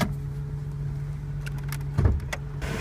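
A 1980 Lincoln Versailles idles in park with a steady low hum throughout, broken by a brief louder thump near the two-second mark.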